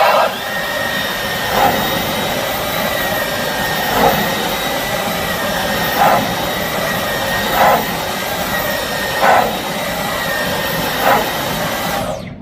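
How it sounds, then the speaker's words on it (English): A Dyson V15 Detect cordless vacuum cleaner runs steadily with a loud whining hum, its tone surging briefly every couple of seconds as it's pushed back and forth. "So I will vacuum this half of it, and you'll see the effect."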